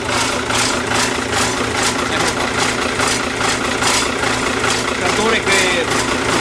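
An old FIAT 1000 Super diesel farm tractor runs loud and close with a steady, rhythmic idling throb. Voices are heard over the engine.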